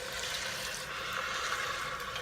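Two cups of chicken stock poured into an Instant Pot, a steady broadband liquid splash running evenly and close for the whole stretch with no talking.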